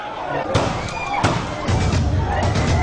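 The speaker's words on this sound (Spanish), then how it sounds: "Tiros al aire para dispersar a la multitud." Gunshots fired into the air to disperse a crowd of Colombian immigrants give several sharp bangs, some separate and some in quick succession, over a crowd's hubbub.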